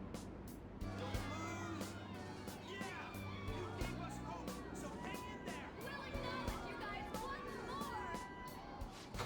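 Crowd of many voices cheering and murmuring in the video game Persona 5 Royal, a dense steady wash of chatter with scattered exclamations and rhythmic pulses underneath, with game music running throughout.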